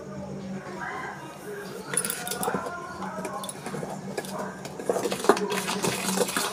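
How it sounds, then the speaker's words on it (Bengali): Strawberry paste is being mixed into sugary cake batter in a bowl, giving irregular scraping and clinking of a utensil against the bowl, moderately close, with faint background birdsong. "আমি এটাকেও ভালো করে একটু মিশিয়ে নিচ্ছি"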